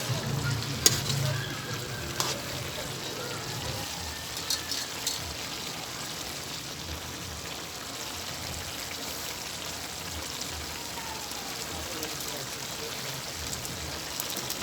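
Pork dinuguan with vegetables and a little water is stirred in a pan, a soft continuous bubbling sizzle with occasional light spoon taps, fairly quiet throughout.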